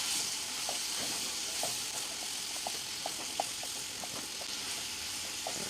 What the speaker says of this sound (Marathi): याच्यातच आपण मशरूम देखील टाकून घेऊया थोडंसं त्याला छान असं परतून घ्यायचं